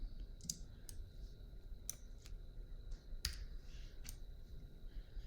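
A computer keyboard space bar gives sharp, separate clicks, about seven in five seconds at an irregular pace, close and fairly quiet over faint room hiss during a 3D modeling session.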